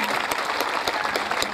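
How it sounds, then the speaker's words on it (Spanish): A crowd at an outdoor rodeo festival in Corzuela, Chaco claps steadily and loudly, a dense sustained applause with occasional sharper bursts, no voices standing out. "vamos a pedir un fuerte aplauso."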